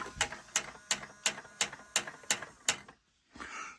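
A case and bullet feeder on a Dillon RL550C reloading press drops projectiles with a steady run of about eight sharp mechanical clacks, evenly spaced and close, then goes quiet before a soft whir.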